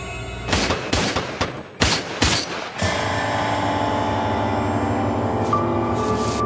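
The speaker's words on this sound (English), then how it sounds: "And the gunfire begins." A rapid series of sharp, loud gunshots fires in quick succession, then stops, leaving a steady droning hum that continues to the end.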